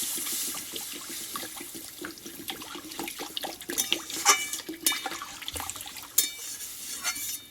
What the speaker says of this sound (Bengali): এবার আমি এখানে পরিমাণ মতো জলটা দিয়ে দেব